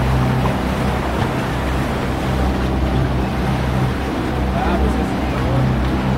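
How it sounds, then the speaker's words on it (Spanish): The wave fountain along the Paseo Santa Lucía walkway at Parque Fundidora in Monterrey gives a loud, constant rush of churning water. Faint background bustle sits beneath it. "o no sé si ya se haya apagado la fuente de las olas"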